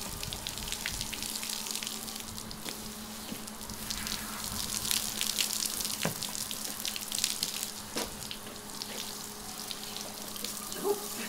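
Running water pours and splashes steadily onto a dog at close range, a continuous gushing stream with a few sharper drips and spatters, no talking heard.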